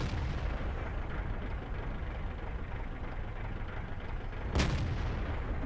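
A single sharp, heavy blast from a T30 tank's cannon in a video game lands late, breaking through a constant low, rumbling engine drone.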